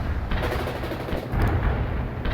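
Dense, continuous gunfire from the real-time strategy game World in Conflict, a loud, rumbling battlefield barrage of overlapping shots and blasts with no clear gaps and no voices.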